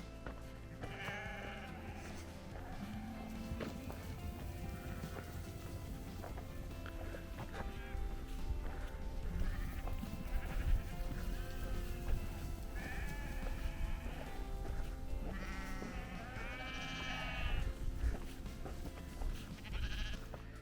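Sheep bleat repeatedly from a distance along a trail near West Yellowstone, wavering calls rising over a constant outdoor rumble, faint overall with no clear talk.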